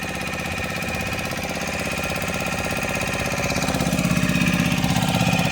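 A motor boat engine runs during a family boat ride on Chilika lake, giving a close, steady chugging drone that grows slightly louder and rougher toward the end.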